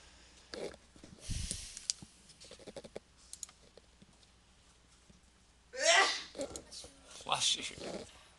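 A single sneeze from someone in a college statistics lecture room erupts as a sudden loud burst, followed by a couple of smaller breathy bursts, with faint clicks and rustles beforehand.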